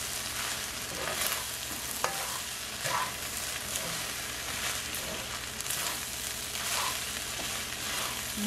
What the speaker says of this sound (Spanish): Mezclamos.